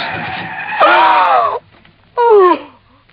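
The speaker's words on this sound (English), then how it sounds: "I slammed on the brakes" A car brakes hard and its tyres skid loudly on a desert trail, as a radio drama sound effect. Two long screeching squeals are separated by a short pause, close and prominent, with no talk.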